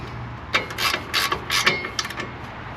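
Ratchet tightening the upper ball joint nut on a 2006 Nissan Xterra, a run of quick clicking bursts in short strokes, close and crisp.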